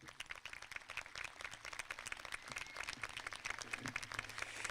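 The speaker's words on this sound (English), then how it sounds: "Please join me in a round of applause for the best administrative staff in the world." Graduation ceremony crowd at West Caldwell High School applauding the administrative staff, sustained soft clapping from many hands, fairly distant and faint, with no talk over it.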